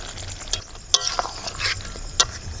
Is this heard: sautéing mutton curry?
yes